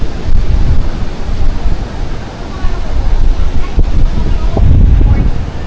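Strong wind buffets the microphone on a beach in Boracay, with a steady, loud rumble mixed with the wash of surf that continues throughout.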